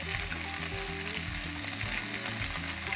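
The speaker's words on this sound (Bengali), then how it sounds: "ডিম আর রসুনটা ভালো করে ভেজে নিয়ে ভিতরে কুচিয়ে রাখা টমেটোগুলো দিয়ে দিচ্ছি" Egg, garlic and chopped tomatoes sizzle steadily in a frying pan, a close, continuous crackle with an occasional stir and no talking.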